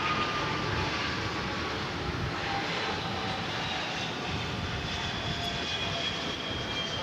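A Boeing 747 takes off from DFW Airport at night, its jet engines giving a steady, broad, powerful roar that fills the whole stretch without letup.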